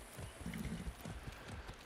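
Horse hooves in Far Cry 6, a faint, steady clip-clop of trotting hoofbeats in an even rhythm under a quiet game background.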